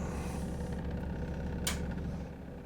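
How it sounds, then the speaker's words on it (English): A Mack Pinnacle truck in American Truck Simulator rumbles with a steady, loud low-pitched engine drone through a residential area, its Jake brake giving a continuous throaty pulsing roar with a brief hiss burst midway. "Nothing like a little Jake brake through a residential area"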